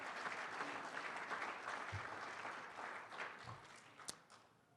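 Sustained audience applause fills a chamber of commerce state-of-the-chamber address, steady clapping from a large crowd that slowly fades near the end.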